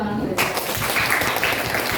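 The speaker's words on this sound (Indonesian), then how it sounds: "Kita beri tepuk tangan dulu." A group of listeners in a classroom breaks into applause just after a brief voice, with dense clapping rising sharply and continuing steadily at moderate loudness.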